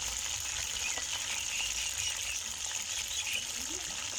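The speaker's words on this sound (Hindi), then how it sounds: "तो इसको जो है ना वो अच्छी तरह पहले फ्राई कर लेंगे 6 से 7 मिनट तक।" Chicken leg pieces, liver, heart and neck fry in a pan for Irani-style chicken karahi, a continuous moderate sizzle with faint stirring scrapes and no talking.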